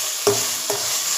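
Onions and green chilies frying in a pan with a little salt, a steady close hiss with two brief louder stirring scrapes, no voices.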